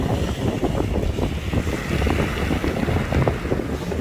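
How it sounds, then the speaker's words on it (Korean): Strong sea wind roars across the microphone at Masian Beach on Yeongjong Island during cast-net fishing, a loud continuous buffeting rumble with gusty surges and no voices. "지금 바람이 엄청나게 불고 있어요, 지금."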